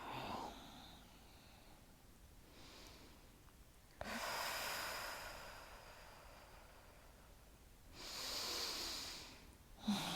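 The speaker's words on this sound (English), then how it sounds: "Breath in and then exhale." Slow yoga breathing in a gentle hatha session, with two or three soft, close inhale-exhale cycles separated by quiet stretches. The breaths are audible but fairly faint.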